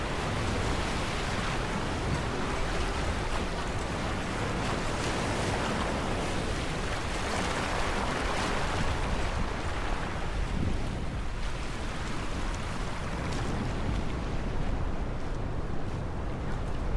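Ocean waves wash steadily onto the black-pebble shore of Diamond Beach in Iceland, a loud, continuous broadband roar with wind buffeting the microphone and no clear breaks between surges.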